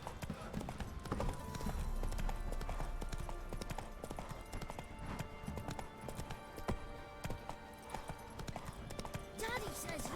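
Geralt's horse Roach gallops in Witcher 3 with steady, rapid clip-clop hoofbeats running through the whole stretch. Game music and ambience sit underneath, and voices talk over the hooves.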